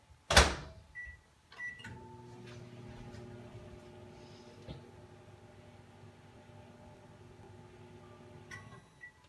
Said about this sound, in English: pop it in the microwave for about 7 seconds